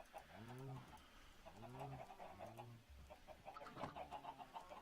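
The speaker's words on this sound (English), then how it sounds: "Yep, there are chickens in there." Minecraft chickens cluck and coo in repeated soft, breathy calls of two or three notes each, close by, with a faint busy game background underneath.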